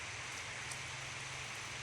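Steady rain pours outdoors while cattle are being herded, a soft, even hiss of falling drops that continues without a break for about two seconds.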